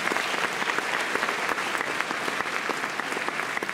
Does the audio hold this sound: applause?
yes